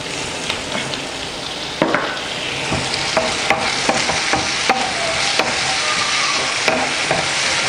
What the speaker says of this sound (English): So I just let the onion and the garlic cook in the oil for 2 minutes until they are nice and fragrant